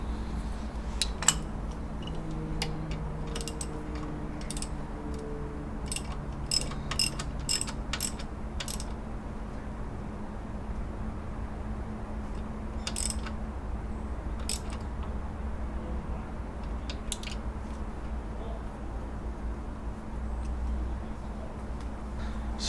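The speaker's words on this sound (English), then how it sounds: "Next we're going to tighten the long bolt up." A ratchet tightening the long alternator bolt on a Subaru Impreza clicks in quick bursts, loud and close at first and then more sparse, over a steady low hum with no talk.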